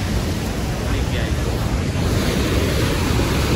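A waterfall roars with dense, continuous rushing water, loud and close, a steady broadband wash under wind buffeting on the microphone.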